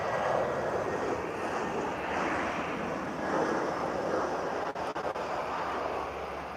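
An EasyJet airliner from London arrives at Lisbon Airport, its engines a broad, steady roar from a distance, swelling slightly with wind noise and a few brief clicks near the end.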